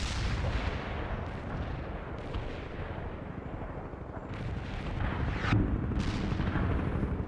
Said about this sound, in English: I need fire support, Romanov.